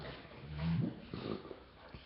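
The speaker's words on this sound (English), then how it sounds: "He just burped." A short, low, throaty burp from a dog, quiet and close, over faint background noise.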